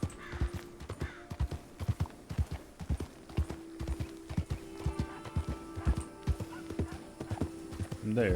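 Horse hooves clip-clop in a steady walking rhythm in the Western roleplay game WildRP, close and clear over a faint background tone, with a brief whinny-like sound near the end.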